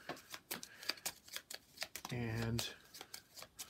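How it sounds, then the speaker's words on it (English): A deck of playing cards shuffled in a short riffling burst in the middle, with a person talking before and after. "And we need to shuffle back up."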